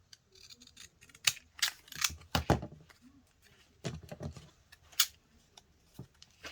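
Scissors snip through paper while cutting out faux postage stamps at a craft table: a close series of crisp, irregularly spaced cuts with short pauses between them, and no voices.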